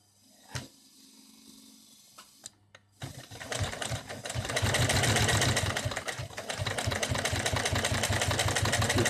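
An Adler sewing machine stitches through six layers of nylon webbing at a long stitch, first a few slow isolated thumps, then a loud, steady mechanical chugging with regular needle strikes.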